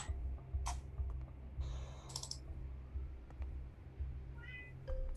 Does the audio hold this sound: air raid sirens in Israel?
no